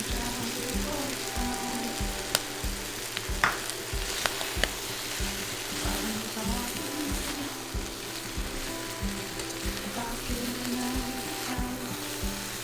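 Shallots and green onions stir-fry in a pan for Taiwanese braised pork rice, giving a soft continuous sizzle with rhythmic low scraping and a few brief clinks. The sound stays fairly quiet and steady, and no one speaks.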